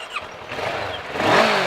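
A 2015 Kawasaki ER6N Limited with a red frame starts up: a brief starter whirr, then the engine catches and swells into a loud, close idle within about a second.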